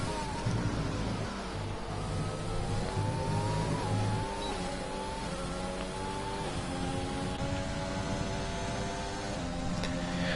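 Rally car engine revving steadily at a World Rally Stage in Austria, a continuous loud engine drone with rising and falling pitch sweeps as it accelerates, dense and unbroken throughout.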